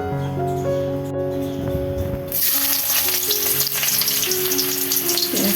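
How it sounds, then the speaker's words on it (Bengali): Okra frying in white oil in a wok gives a sudden loud sizzle partway through, after a quieter start with a steady background hum, then crackles on continuously up close. "এখানে একটু ঢেঁড়স ভাজি করবো, তার জন্য কড়াই বসিয়ে দিয়ে পরিমাণ মতো সাদা তেল দিয়েছি"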